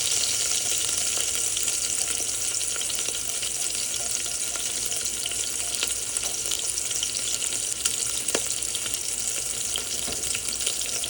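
Meatballs sear in an oiled pan for spaghetti and meatballs, a steady dense sizzle and crackle that runs unbroken throughout, loud and close, with a few faint clinks and no talk.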